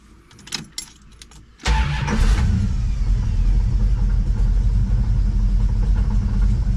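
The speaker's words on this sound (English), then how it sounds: "See, it's just making a god-awful racket." A 1970 Dodge Charger with a torque converter problem and an oil leak at the dipstick tube starts after a few clinks, then idles with a loud, rough, rumbling racket close up.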